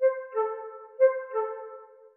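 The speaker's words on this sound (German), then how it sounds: "Was du gerade gehört hast, war eine absteigende kleine Terz und danach eine aufsteigende Quarte." Simple melodic motif of clean tones: a descending minor third followed by an ascending fourth, like cuckoo and hunting-horn calls, played twice in a steady rhythm, clear and unaccompanied.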